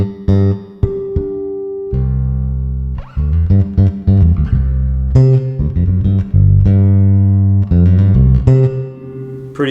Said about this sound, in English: throws some reverb on the bass